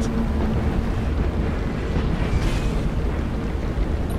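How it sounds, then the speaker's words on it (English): Starship engines rumbling to life in the space strategy game Battlefleet Gothic: Armada, a loud, steady low roar with a windy hiss that holds evenly throughout without any voices. "Engines hot."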